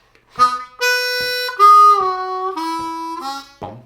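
A reedy harmonica plays a short, bright major pentatonic lick over the five chord of a 12-bar country blues, sustained notes stepping down in pitch, with a breathy note at the end.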